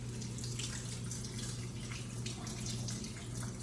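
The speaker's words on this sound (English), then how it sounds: "Let me wash my hands real quick." Kitchen tap running steadily into a sink during hand washing, a continuous close hiss and splash with small irregular splashes and no talking.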